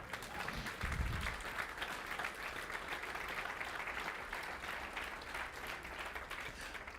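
A church congregation at a Sunday service bursts into applause, a sustained roomy clatter of many hands clapping together with a brief low thump near the start, steady throughout.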